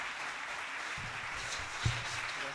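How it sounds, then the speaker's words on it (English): Quiet, distant applause from an audience at a concert-lecture on Al-Andalus music, soft continuous clapping under low murmuring and a few brief thumps and bumps nearby. "round of applause for César Carazo."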